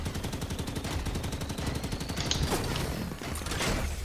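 Rapid, dense gunfire from many weapons during large-scale battalion tactical lane training, with overlapping bursts and single shots cracking continuously and loudly throughout, no talking.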